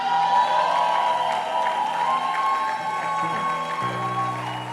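A church congregation cheers and applauds during a Pentecost sermon, producing a steady, loud wash of clapping, shouts and whoops that fills the whole stretch, with a lower hum joining near the end.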